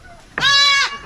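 A goat bleats once after giving birth, a single loud, close, drawn-out cry of about half a second, with no other sound around it.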